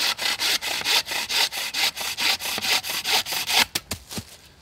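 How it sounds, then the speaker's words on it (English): Wood being sawn by hand on a sawbuck tripod, a steady run of about fifteen rhythmic rasping strokes at close range, the last few strokes shorter and sharper before it stops. "You can then saw,"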